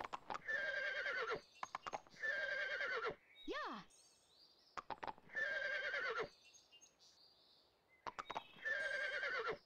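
Horse in the Barbie Horse Adventures game whinnying in repeated loud bursts, four similar neighs spaced a couple of seconds apart with a rising synthetic swoop between them and quick hoof clicks at the edges of each call.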